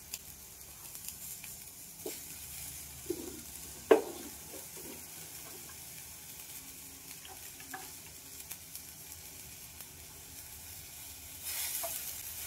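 Salt-rubbed chopped banana flower hits hot tempering in a pan, giving a soft, steady sizzle for several seconds, with occasional stirring scrapes and clicks and no talking.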